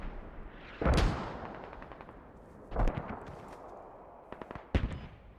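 Mortar rounds land in the video game Squad: three heavy booming blasts a couple of seconds apart, each with a rumbling tail, over faint background noise and no talking.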